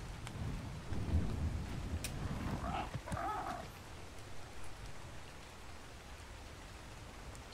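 Rain and thunder in the video game Ark Survival Evolved: a low rumble of thunder rolls at first, then fades under a steady, fairly faint hiss of rainfall, with a brief mid-range cry partway through.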